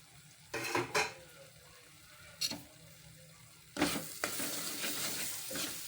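Coconut chutney scraped and stirred in a pan, with a few loud bursts of utensil scraping and clatter over a steady low sizzle and stretches of quieter cooking noise.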